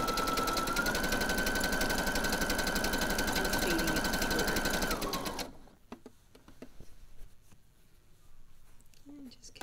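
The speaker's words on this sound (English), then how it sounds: "Stitching it through" A sewing machine stitches elastic onto knickers, whirring loud and steady for about five seconds with a faint high whine, then stopping, leaving light handling noise and quiet speech.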